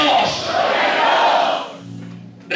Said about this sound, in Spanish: Levanten sus manos, griten un poderoso y vivo ¡Gloria a Dios!